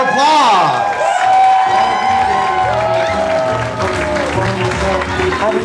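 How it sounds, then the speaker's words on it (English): Wedding reception guests applaud and cheer loudly before the couple's first dance, with steady massed clapping, whoops and crowd voices filling the room throughout. "Big round of applause."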